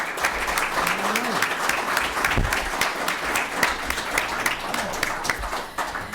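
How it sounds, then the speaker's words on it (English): A room of attendees at a League of Women Voters candidates night claps steadily for a candidate, a full round of applause with a faint voice briefly audible underneath. "let's give him a round of applause to thank him for being here"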